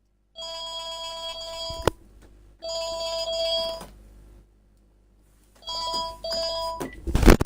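In the horror game Call of Cthulhu, a telephone rings in three separate bursts of electronic trilling with silent gaps between them, fairly clear and close, ending in a short clatter.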